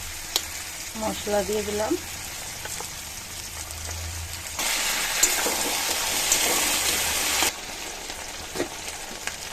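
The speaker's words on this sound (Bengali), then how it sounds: "পেঁয়াজ দিয়ে দিয়েছি, কুমড়োর সঙ্গে ভেজে নেব লাল করে" Onion and pumpkin fry in a pan with a constant sizzle, and a brief voice speaks early on. Midway, a louder, brighter burst of sizzling lasts a few seconds before settling back to a quieter crackle.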